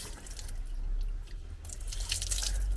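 Dirty water from a blocked Vaillant EcoTec Pro 28 combi boiler pipe draining in a steady splashing, hissing stream, close and continuous, with a brighter gush toward the end.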